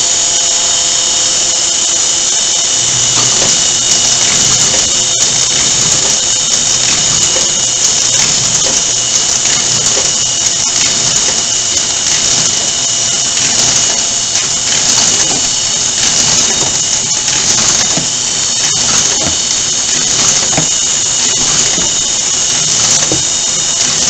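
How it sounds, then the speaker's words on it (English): A Mailcrafters 1200X six-station inserter running 10 x 14 envelopes keeps up a loud, steady mechanical whir with a persistent high squeal, broken by repeated clacking and ratcheting. "We're going to show you the sequential startup of the machine, loading the material, and then the sequential shutdown, and we'll run a few pieces in between"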